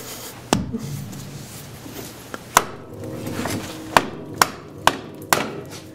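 Sharp hammer strikes on a Yamaha Grizzly 660 ATV wheel bearing, about seven metallic whacks at uneven intervals, close and loud over a low background hum.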